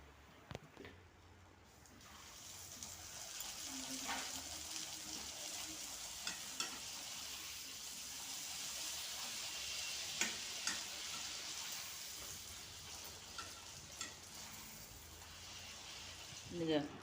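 Puris deep-frying in hot oil at home, with a steady bubbling sizzle running throughout, sharp clicks and ticks of a utensil in the pan, and faint voices talking nearby.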